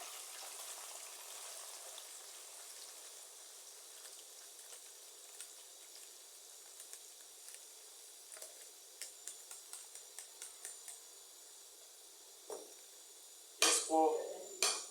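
Onions frying in oil in a kadai: a quiet kitchen hiss with scattered light clinks of utensils, then a sudden loud burst of sizzling near the end.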